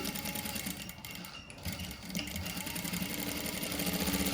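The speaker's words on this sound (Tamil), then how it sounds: "இப்போ இதை வந்து இப்படியே தைக்கிறேன்" A sewing machine stitches a back-open saree blouse with a soft, rapid mechanical whir that runs continuously at a low volume, close by.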